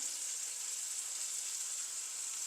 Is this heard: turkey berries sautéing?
yes